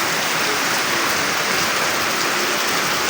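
Steady rain pours down outdoors, a dense, constant hiss of drops without a break, loud and close throughout.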